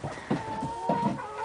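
A chicken on a farm clucks in short repeated bursts, close and moderately loud, with a faint steady hum behind it and no talk.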